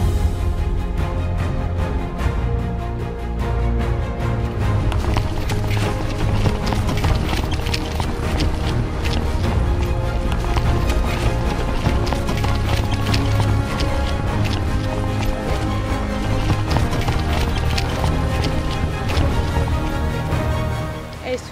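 Quarter Horse foal, an American breed, moving at a bullfighting horse stable, its hooves clip-clopping steadily throughout under a dense, continuous bed of music.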